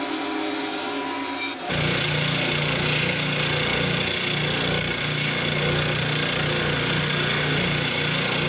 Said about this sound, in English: I wanna cut a little relief in the bottom that's gonna kinda create two separate legs